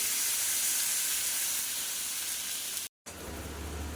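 A hot pan of frying hilsa fish bursts into a loud, steady sizzle and hiss as water goes in, broken by a short silence before the bubbling resumes close up.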